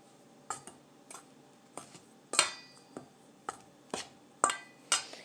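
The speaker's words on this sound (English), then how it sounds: "this is the salt and the baking powder and baking soda. So we'll mix that together" Salt, baking powder and baking soda are stirred together in a bowl, giving roughly ten light, evenly spaced clinks of a utensil against the bowl, faint and unaccompanied by talk.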